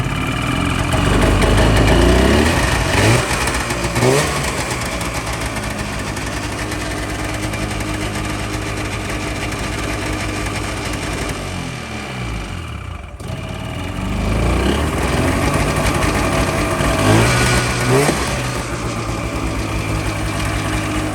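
A snowmobile that sat for nearly six years idles a little high, running steady and close with a rough, buzzing mechanical vibration. The engine speed swells slightly a couple of times, and no voices are heard.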